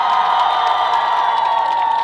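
A concert crowd at an outdoor winter festival in Ilsan applauds and cheers for a fan club, a dense and loud wash of clapping and shouts that holds steady throughout.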